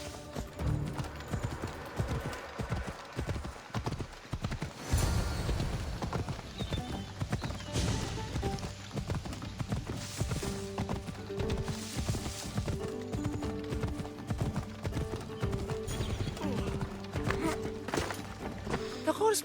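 Galloping horse hooves clip-clop steadily in Assassin's Creed Odyssey, with occasional whinnies over ongoing game music and ambience, loud and continuous throughout.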